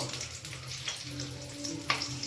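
Slit green chilies hit hot oil in a pan, giving a soft steady sizzle and crackle, close and fairly quiet, with a small sharp pop near the end.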